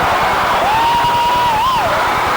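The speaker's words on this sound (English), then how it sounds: "Listen to this crowd." A loud high school basketball crowd roars continuously in a tied game, cheering and yelling, with a shrill whistle rising briefly above the din.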